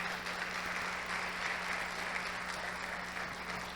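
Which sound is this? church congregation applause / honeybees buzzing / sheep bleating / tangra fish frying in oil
church congregation applause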